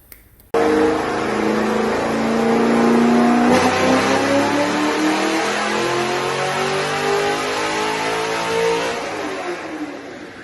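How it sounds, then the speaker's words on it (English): A 2010 Camaro with a 418 cubic-inch V8, Kooks headers, high-flow cats and Corsa catback running E85 roars loud and close on a dyno, climbing steadily through a long sustained pull before backing off. "So we'll get a couple pulls in here and we'll come back with some numbers and some idle clips for you."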